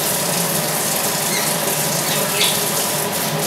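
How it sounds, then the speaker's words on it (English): Water runs steadily from a tap as hands are washed at a kitchen sink while cooking rib eye steak, a dense, continuous hiss filling the whole stretch without talk. "Okay, hand washing."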